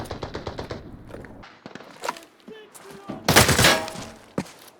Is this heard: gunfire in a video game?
yes